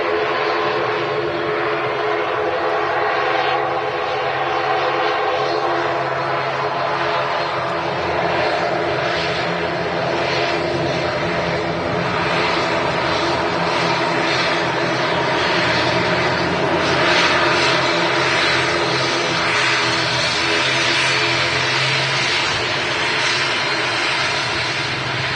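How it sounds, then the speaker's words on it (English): A TUI airliner bound for Cancun lines up on runway 23 right at Manchester Airport, its jet engines giving a steady, moderately loud rumbling whine that holds evenly throughout. "Next up, we have the TUI flight to Cancun, flight 172. Just lining up now on 23 right."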